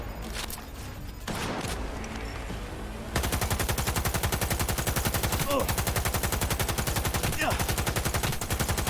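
Automatic gunfire in Cyberpunk 2077, a few scattered shots and then a long, loud, rapid-fire stream of rhythmic bursts at close range.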